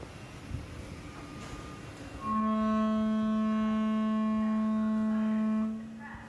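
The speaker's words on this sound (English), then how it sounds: "This is a vibe welder with our printed parts" A vibration welder joining 3D-printed nylon 12 parts gives off a steady, loud harmonic buzz that starts abruptly, holds for about three seconds and then cuts off, over low room noise.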